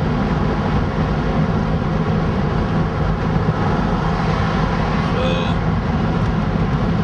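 A car drives across a bridge, its steady road rumble and engine drone filling the scene loudly and continuously from start to finish.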